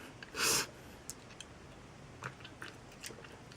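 One sharp, wet sniff up close, followed by faint scattered clicks and small breathy sounds in an otherwise quiet space.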